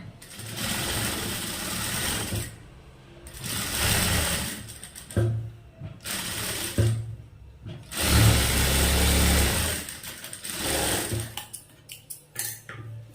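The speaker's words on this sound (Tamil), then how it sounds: "இந்த ஃபோல்டிங் எஜ்ஜில் தையல் போட்டுக்குங்க" Sewing machine stitching along a half-inch folded cloth edge during tailoring, running in several loud bursts of steady whirring separated by short pauses, close to the microphone.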